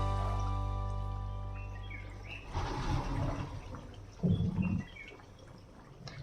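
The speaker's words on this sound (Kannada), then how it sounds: "ಮೀಡಿಯಂ ಹೀಟಲ್ಲಿ ಎಣ್ಣೆ ಕಾಯ್ದಿರೋದ್ರಲ್ಲಿ ಕಜ್ಜಾಯ ಹಾಕೋಣ" Kajjaya sweets dropped into hot oil in an iron pan over medium heat: a low steady hum gives way to a sudden burst of crackling sizzle, then a second short sizzling flare, with no talking.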